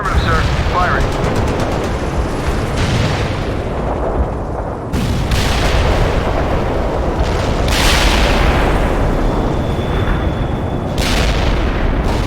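Loud, close booming cannon blasts from tanks in the video game World in Conflict, sudden sharp shots over a constant roar of battle noise and gunfire.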